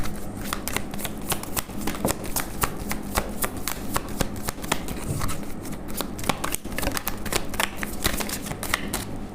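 Tarot cards being shuffled and drawn from several decks, a continuous dense run of crisp riffling and flicking card sounds close by, with no talking.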